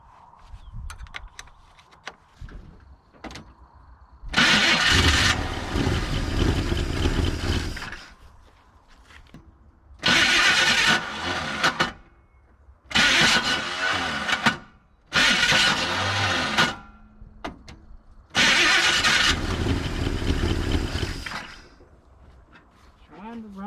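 A 1983 Chevrolet C30 Scottsdale truck engine cranking close by in five long bursts, each a loud churning starter whir with brief catches, separated by pauses where someone talks quietly.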